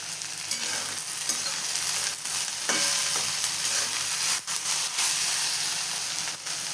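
Okra frying in a pan: a continuous loud sizzle with occasional scraping stirs and clicks against the pan.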